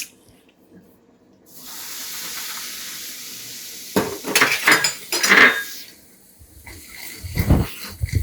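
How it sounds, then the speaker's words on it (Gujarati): Semolina being roasted in ghee in a pan, first a steady soft sizzle, then a run of scraping, clinking strokes of a spoon against the pan, close and fairly loud, with no voices. "આપણે હવે આ ઘીમાં આપણે સોજી શેકી દઈશું"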